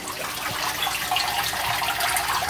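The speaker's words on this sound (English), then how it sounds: "that's where the water comes out" Water gushes steadily out of an aquaponics bell siphon drain, a close, continuous rushing and splashing stream with no talk over it.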